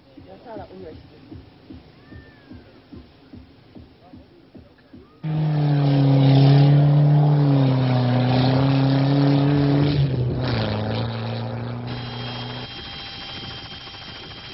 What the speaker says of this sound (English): Hidden in the haze, the backup vehicles battle it out.